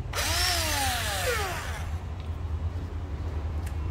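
A used Japanese cordless battery drill spins up with a rising whine and runs briefly before cutting off. A low background hum continues after the motor falls silent.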